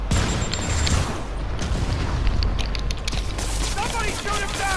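A thug fires a bazooka missile launcher in Marvel's Spider-Man video game, amid dense, loud game action with continuous rumbling blasts and clatter, no single shot standing apart.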